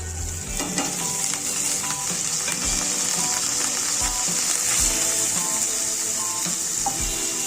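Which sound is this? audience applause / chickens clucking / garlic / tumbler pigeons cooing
garlic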